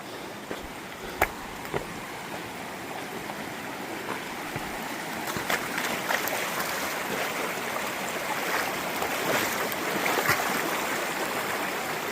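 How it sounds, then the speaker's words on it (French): A river rushes steadily beside a trail during a long mountain trail race, a constant broadband wash of flowing water with faint scattered knocks and clicks, no voices heard. "là on y arrive au bord de la rivière"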